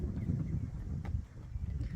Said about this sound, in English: Look at that wind blowing